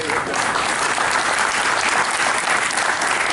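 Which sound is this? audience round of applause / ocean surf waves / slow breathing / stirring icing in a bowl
audience round of applause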